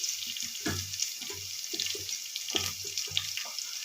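Running tap water splashes into a sink while prawns are washed for a Telangana tomato prawn curry, a soft, continuous stream with irregular pulsing splashes, fairly quiet and with no talking.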